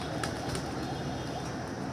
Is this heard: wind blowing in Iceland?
no